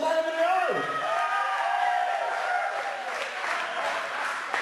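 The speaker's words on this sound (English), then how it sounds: "round of applause for Marilyn Monroe!" Applause breaks out at a birthday party hypnosis show alongside a voice that sweeps downward, with clapping and crowd noise continuing beneath.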